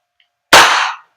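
A WE Glock 17 Gen 5 airsoft gas blowback pistol fires one sharp, loud shot up close, with a short hissing decay after the crack and nothing else around it.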